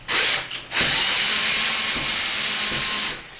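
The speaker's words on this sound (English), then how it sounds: "screw in the mount screws, securing the outlet to the box itself" A power drill whirs steadily, driving the mount screws that secure an electrical outlet to its wall box, a continuous close, hissy run with a short pause near the start.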